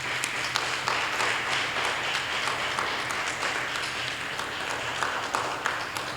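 A church congregation applauds and acclaims at a French-language service, with sustained, dense clapping from a large crowd that keeps an even level throughout.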